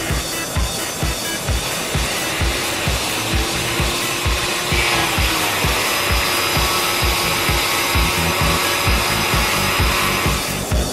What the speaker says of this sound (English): First, for optical disks, the grinder.